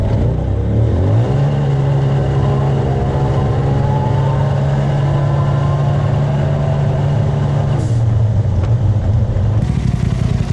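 A Stage 3 tuned engine, running 93 octane, revs up and holds a loud, steady high-rpm roar close by on a test run, then drops off near the end with a brief wind noise.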